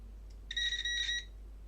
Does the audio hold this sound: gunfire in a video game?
no